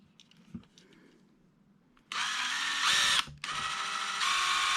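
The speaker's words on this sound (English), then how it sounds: "now we're going to drill off the rivet" A small drill whirs loudly and close as it bores off the rivet on a Hot Wheels Land Cruiser FJ80 die-cast car, following faint handling noises, with a brief pause before the drilling resumes.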